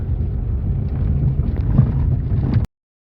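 Wind buffets the microphone in a steady low rumble for a few seconds, then cuts off abruptly into silence.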